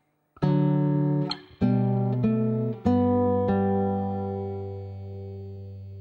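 A guitar plays one measure of Minuet in G, a handful of plucked notes and chords, including low bass notes with open strings, ringing close and clear in a steady rhythm before the last chord sustains and fades.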